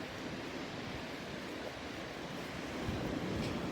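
Ocean surf rolls in at a beach as the high tide comes in, a continuous broad wash of breaking waves with steady wind noise, growing slightly louder toward the end, no voices.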